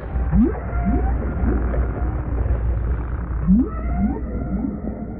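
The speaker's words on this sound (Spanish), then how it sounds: "Aunque en este caso, nuestra cantante resulta ser una ballena lejana" Song of a distant whale in the open sea: a series of short rising upsweep calls repeated in two clusters, faint and reverberant over a constant low ocean rumble.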